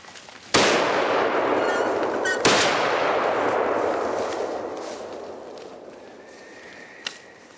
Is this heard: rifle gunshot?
yes